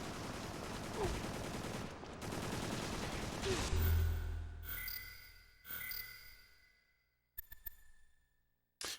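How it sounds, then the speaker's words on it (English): Enemy gunfire in the PS2 video game Extermination: bursts of shots and impacts crowd the first half, thin out into quieter sporadic pops, then a few sharp isolated cracks near the end. "they're shooting out there"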